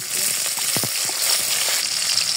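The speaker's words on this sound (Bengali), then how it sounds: "এগুলো এটার সাথে ভেজে নিব।" Chopped onions fry in a pan with cardamom pods, a continuous loud sizzle with a few scraping stirs breaking through near the start.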